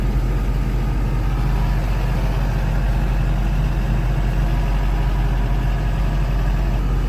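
Caterpillar D8R bulldozer with a 3406 engine running, a steady deep diesel rumble at idle, loud and close, unchanging throughout with no talking.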